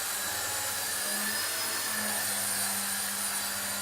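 A Heli-Max Novus CX 4-channel 2.4GHz RC helicopter flies indoors in close quarters, its steady whirring rotor and motor hum holding constant with a faint tonal whine that shifts slightly in pitch.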